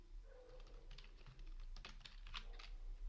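Rapid typing on a computer keyboard, a dense run of close, light key clicks with uneven rhythm and no voices over a steady low hum.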